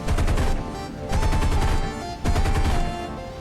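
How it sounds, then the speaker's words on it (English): Aircraft guns fire in War Thunder at about 75% throttle, with three loud, sustained bursts of rapid automatic fire separated by brief lulls. "we'll go ahead and fire off a few rounds"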